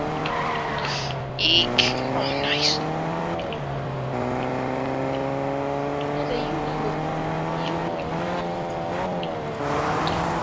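A car in the Fortnite video game drives with a droning engine whose pitch slides up and down, with skidding tire squeals at moments, while a person talks briefly over it.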